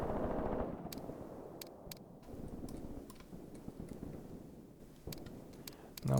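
Artillery strikes in the war game Graviteam Tactics: distant dull booms and sharp crackling reports scattered irregularly over a low battlefield rumble, with no talk.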